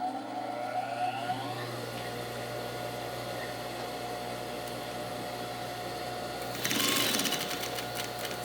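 A domestic sewing machine runs steadily, stitching bias binding onto the upper edge of card pockets, with an even mechanical whir and a brief louder burst of clatter near the end.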